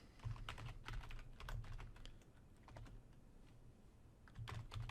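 Someone types a folder name on a computer keyboard, producing quick, close, fairly quiet key taps in irregular bursts with brief pauses and no talking.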